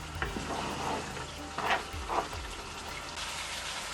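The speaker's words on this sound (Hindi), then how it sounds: "यहाँ पे हम इसको भून लेंगे तकरीबन 20 मिनट के लिए" Masala for namkeen gosht frying in a pot, with a steady low sizzle and a few louder scraping stirs of a spoon, close and alone without talk.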